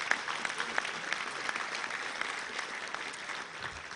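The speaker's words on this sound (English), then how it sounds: "Let's give all of our great sponsors a round of applause" A luncheon audience at the Little Rock Touchdown Club gives its sponsors a round of applause: dense, steady clapping from a roomful of people, fairly loud and continuous, tapering slightly near the end.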